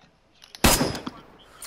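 A single loud gunshot in DayZ cracks out close and sharp after a quiet lead-in. Its echo decays over the next second with a faint rustle around it, and no one speaks.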